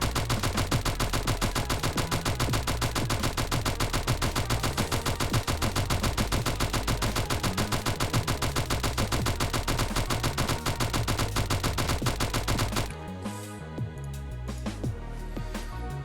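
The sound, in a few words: Uzi gunfire in a video game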